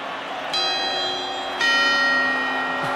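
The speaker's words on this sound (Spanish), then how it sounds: "esto son las campanadas de la noche vieja." Church bells ring out at midnight on New Year's Eve with long sustained tones, a first strike followed by a second, louder chime that lingers and hums.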